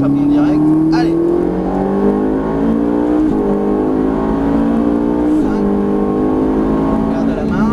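A race car on a track revs hard with a loud, close engine whine that climbs through the gears, dropping sharply at each shift before rising again.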